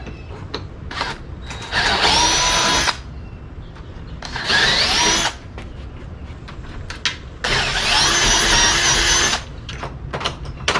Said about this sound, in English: I have to drill one of these holes out.